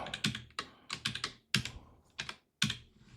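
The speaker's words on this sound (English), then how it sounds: "I can't type" Irregular clusters of crisp keystrokes on a computer keyboard, loud and close, with short pauses between bursts and no talk.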